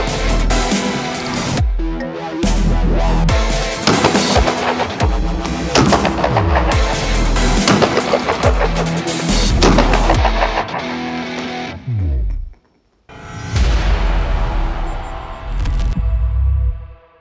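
A pistol fitted with a Holosun HS507C V2 red dot optic fires a long series of loud, sharp shots with hard echoing cracks, a brief pause, then more rapid shots.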